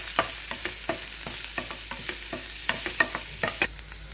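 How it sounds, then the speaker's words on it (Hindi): Ginger garlic paste frying in hot oil, a constant sizzle punctuated by rapid, regular scraping and tapping of a spoon stirring in the pan, close and clear. "इसमें डालेंगे हम लहसुन और अदरक का पेस्ट, इसको अच्छे से भून लेंगे।"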